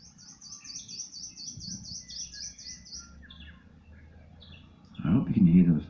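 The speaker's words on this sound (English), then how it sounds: "I hope you can hear those birds." Birds singing by a misty lake on an early July morning, a repeated high chirping phrase in the first few seconds with scattered calls after, moderately close, before a voice speaks near the end.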